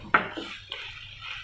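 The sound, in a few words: stirring curry leaves and vegetables in a pan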